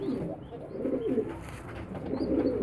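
Pigeons in a loft cooing in low, soft, rolling phrases, with several overlapping calls held steadily at moderate volume through the short stretch.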